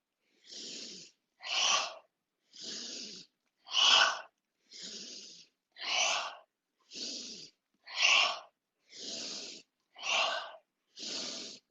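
Eleven sharp, vigorous sniffing breaths in a steady rhythm during a Kundalini yoga kriya cleansing practice, each a short, loud breathy burst followed by a brief pause, close and alone with no talk.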